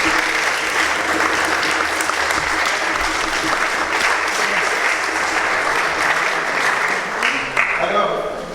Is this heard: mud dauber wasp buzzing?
no